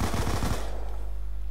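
A quick burst of machine-gun fire in Black Ops 2, several sharp close shots in the first half second, then a fading reverberant tail.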